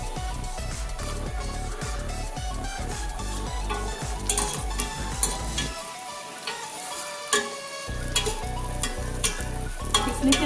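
Cashews and raisins frying in ghee in a pan for Kerala-style ghee rice: a steady, close sizzle with stirring scrapes and light clinks, the crackle briefly thinning midway before picking up again, with no talking.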